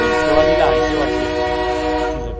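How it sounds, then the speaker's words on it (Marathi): A train horn sound effect blares in a long, loud harmonic tone with a rising wavering note, fading slightly at the end. "तिला ट्रेनचा आवाज ऐकू आला"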